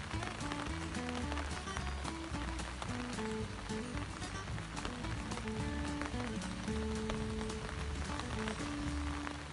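Steady rain falls at a mountain resort at Khao Kho in Phetchabun, a continuous dense patter with no breaks, heard over faint background music.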